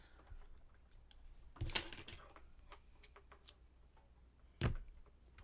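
A couple of brief metallic clicks and rattles of scissors being picked up and handled while crocheting a granny square blanket, against a quiet room background.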